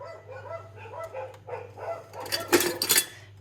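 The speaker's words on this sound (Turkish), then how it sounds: "Köyde olduğum için köpekler havlıyor." Dogs bark in a village, with a series of short yips and barks giving way to louder, denser barking near the end over a steady low hum, fairly close and with no talking.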